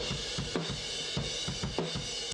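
Drums with Sabian cymbals played in a steady rhythm, heard through room mics compressed with a BSS compressor, with pumping cymbal wash and repeated kick and snare hits.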